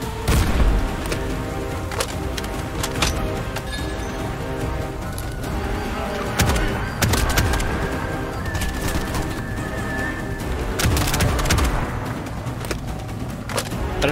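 Grenades exploding during gunfights in the video game Bright Memory Infinite: repeated heavy blasts at irregular intervals, layered over dense gunfire and other combat effects.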